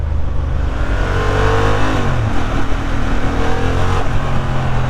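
A 2023 Honda CB750 Hornet motorcycle engine pulls hard through the gears, loud and close, its rising revs dipping briefly at each shift.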